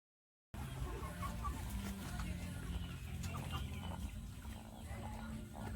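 Chickens cluck on a countryside chicken farm, a dense, steady murmur of many birds under a constant low rumble that runs the whole time.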